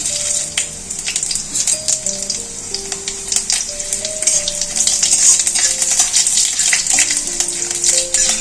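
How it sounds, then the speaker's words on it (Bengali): Panch phoron, a dried red chilli and a bay leaf crackle in mustard oil in a kadai for dal tempering. The sizzling is close and loud, with occasional spoon stirring and clinks. "এই ফোড়নগুলো সব ভাজা হয়ে গেছে"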